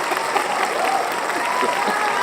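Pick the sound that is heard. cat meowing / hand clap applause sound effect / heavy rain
hand clap applause sound effect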